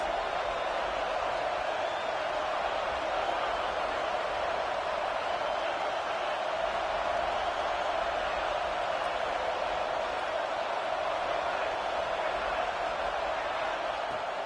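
A college football stadium crowd during a Florida State game against the Gators, a dense continuous roar of thousands of fans, steady and loud throughout with no distinct breaks.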